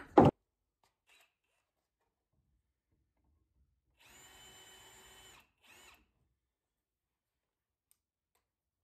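A power drill whirs steadily for about a second and a half, widening a screw hole in a large antique apothecary cabinet, followed by a brief second burst, after a sharp knock at the start.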